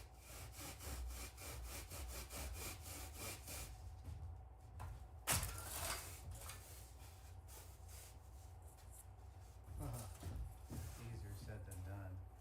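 A piece of wood for a Ghostbusters proton pack build is cut in half with a hand saw, giving rapid back-and-forth rasping strokes, faint and close, with brief pauses and a few knocks between bursts of sawing.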